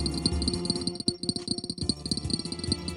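An awful-sounding portal in a video game makes harsh, warbling electronic tones. Shrill pulsing beeps ride over a buzzy, chopping drone, loud and close, for about three seconds with no talk.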